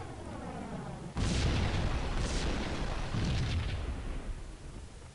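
A sudden loud blast bursts in after a quiet second as gas canisters explode in Max Payne, followed by a sustained roaring rumble with a few crackling secondary bursts, no voices.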